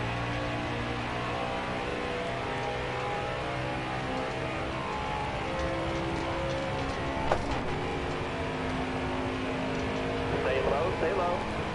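Racing trucks roar around Daytona in a video game, a dense, steady drone of engines packed together in a draft, with a commentator talking over the continuous noise.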